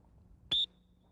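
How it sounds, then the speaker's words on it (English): One short, sharp, high-pitched whistle blast, blown to make a hunting dog sit, sounds in near silence, lasting a fraction of a second. "We're going to blow the whistle to make her sit."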